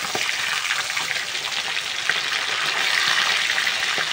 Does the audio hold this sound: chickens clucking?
no